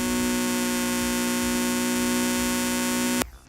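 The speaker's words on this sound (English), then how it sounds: "That's the sound of a handheld fan, just the fan spinning." A handheld fan spins with a steady, buzzy motor whine and rich harmonic hum, loud and continuous before cutting off abruptly near the end.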